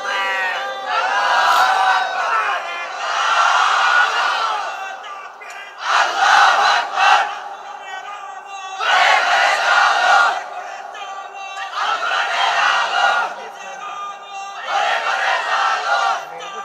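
A crowd of young men at a religious sermon chants takbir in loud repeated bursts, each surge of massed voices lasting a couple of seconds with short pauses between, strong and close.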